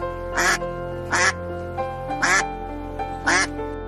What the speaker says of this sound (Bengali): রাজহাঁস।